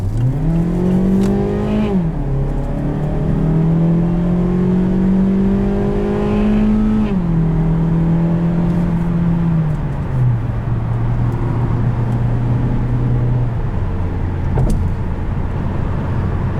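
A 2017 Mazda CX-3 Touring accelerating on the road, its engine note climbing loudly and steadily through several gear changes, each shift dropping the pitch before it rises again, over a constant cabin rumble.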